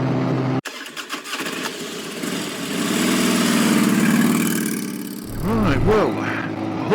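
A Lifan King 125 motorcycle engine hums steadily and rises, then eases off, with a voice talking over it near the end.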